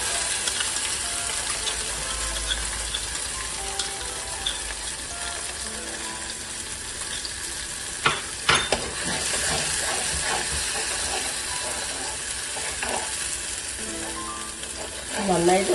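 Ground masala paste of onion, chilli powder and turmeric frying in oil in a pan, a continuous close hiss and sizzle with occasional stirring clatter near the end, and no talking.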